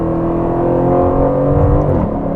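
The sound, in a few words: sports car engine accelerating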